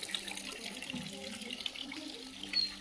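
Water runs steadily from a tap into a container being filled, a continuous close splashing hiss with small bubbling fluctuations and no voices.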